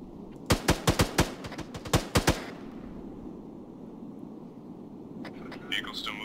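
Rifle fire in the video game Arma 3 aimed at a vehicle driver: about nine sharp, loud shots in quick clusters over two seconds, then a low vehicle rumble and brief faint voices.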